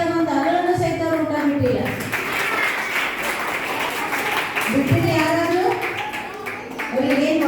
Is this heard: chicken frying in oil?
no